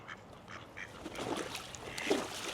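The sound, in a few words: ducks on the water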